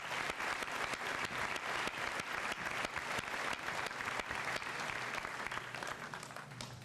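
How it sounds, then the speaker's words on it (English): Sustained clapping from a large audience at a high school senior assembly honoring award winners, a dense continuous roar of many hands that holds steady and begins to fade at the end. "One more round of applause for these people."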